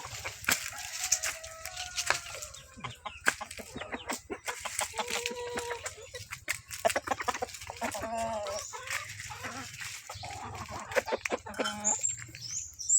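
Forty-five-day-old broiler chickens cluck steadily and close by, with overlapping calls and occasional louder squawks against a low background hum.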